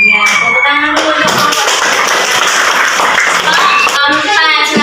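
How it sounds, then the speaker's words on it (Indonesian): A classroom group claps for a presenting team, a brief burst of many hands clapping in the middle while children and a teacher talk before and after it. "tepuk tangan dulu"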